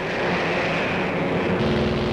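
Multi-engine WWII bomber aircraft droning steadily under battle damage, a dense, continuous propeller-engine roar with a low throbbing pulse that stays loud and close throughout.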